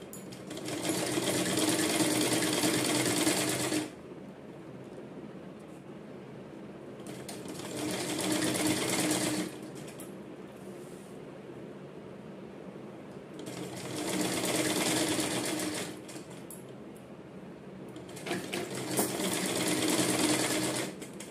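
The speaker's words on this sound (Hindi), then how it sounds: "तो ये पहले पीछे वाले गले की सिलाई कर लेते हैं।" A sewing machine stitches the back neckline of a pahadi kurti in four bursts of rapid, close, even whirring, separated by quieter pauses.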